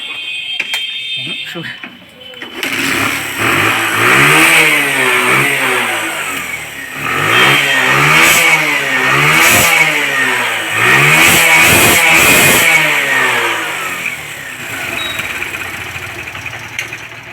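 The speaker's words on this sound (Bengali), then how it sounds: "এখন বাইকটা স্টার্ট দিয়ে তোমাদেরকে দেখিয়ে দেব যে কেমন হয়েছে।" A Bajaj CT 100 motorcycle, just cleared of water in its fuel tank after a starting problem, fires up and revs close by, its engine rising and falling in several loud throttle blips between idling stretches.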